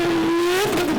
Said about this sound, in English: we've got one really loud car, which is this one